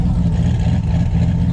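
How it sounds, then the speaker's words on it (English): Loud Chevrolet Camaro engine rumbling at close range, a deep steady droning roar that fills the brief moment without letting up. "And this Camaro really is loud"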